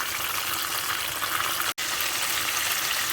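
Spring rolls frying in hot oil give a steady, dense crackling sizzle that runs throughout, close and fairly loud, with one momentary dropout.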